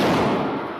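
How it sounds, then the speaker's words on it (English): A gunshot fired inside a Texas church during a Sunday morning service sounds as a loud, dense blast with a broad echoing tail that fades within a second. "The gunshots sparking panic in the pews."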